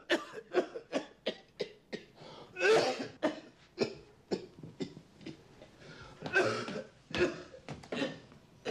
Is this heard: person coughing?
yes